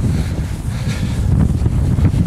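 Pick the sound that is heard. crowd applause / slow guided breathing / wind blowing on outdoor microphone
wind blowing on outdoor microphone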